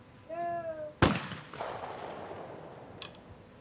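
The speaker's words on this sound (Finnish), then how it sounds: "kun 9 kiekkoa on ammuttu." Shotgun blasts at a 2014 Finnish national championship in skeet and trap clay target shooting: one loud, sharp report with a ringing tail, then a fainter, more distant shot two seconds later, after a brief tonal call.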